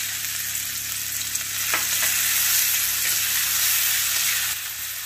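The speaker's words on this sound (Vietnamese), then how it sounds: "Giờ thì mình sẽ cho củ hành tím băm và tỏi băm vào luôn nha." Minced shallots and garlic sizzle and fry in hot annatto oil in a pan, giving a loud, steady crackling hiss that holds throughout, with a few faint stirring scrapes.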